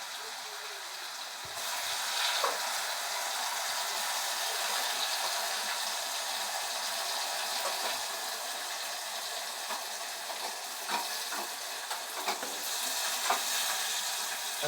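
Crushed dried garlic and green chillies fry in a pan, making a continuous, fairly loud sizzle close by. Light scattered clicks and stirring knocks sound over it and nobody speaks.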